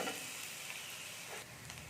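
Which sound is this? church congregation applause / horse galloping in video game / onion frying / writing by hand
onion frying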